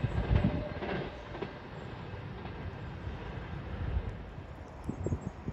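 A Class 390 electric train, unit 390-115, pulls out of Crewe on the West Coast Main Line bound for Glasgow Central, with faint rumbling wheels and soft clicks under a steady background hiss, fairly distant.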